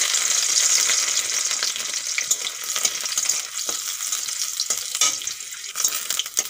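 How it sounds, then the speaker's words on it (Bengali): Crushed garlic sizzles and crackles in hot white oil in a pan, a steady close hiss with small pops and occasional stirring scrapes, and no voices. "তেল গরম হয়ে গেছে, তেলের উপরে দিয়ে দেব থেতো করা রসুন।"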